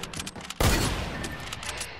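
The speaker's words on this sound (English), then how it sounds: "A heavy sniper shot." A heavy sniper rifle fires once in Fortnite, a sudden loud close blast with a long rumbling tail that fills the rest of the moment.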